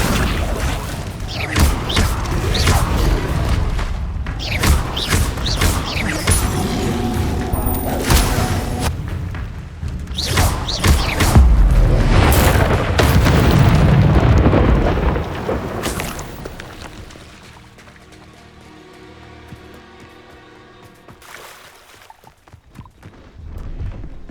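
Spell effects cast in Hogwarts Legacy: a dense run of loud magical booms, whooshes and thuds for about fifteen seconds, easing into quieter rumbling game ambience.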